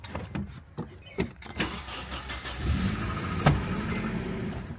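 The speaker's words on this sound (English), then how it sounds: "let me actually jump this car" A car, likely a Mazda RX-7, is jump-started with a portable jump starter in boost mode: a few clicks and knocks, then the engine cranks and catches into a rising rev before settling.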